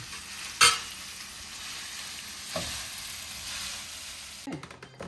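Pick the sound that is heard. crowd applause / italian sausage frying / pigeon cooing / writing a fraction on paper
italian sausage frying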